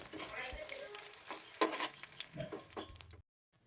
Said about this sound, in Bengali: সমস্ত বড়াগুলো ভাজা হয়ে গেছে, আবারও এক পিঠ করে উল্টে দিয়ে ভালো করে ভেজে নেব।